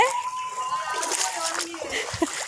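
Someone swims through floodwater, close splashing and sloshing of water under ongoing talk, including a voice.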